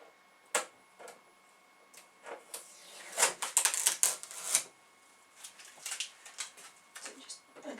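Stickers being peeled off a new PFAFF Quilt Expression 720 sewing machine, a series of short crackly rips and ticks in bursts, busiest in the middle, with quiet gaps between.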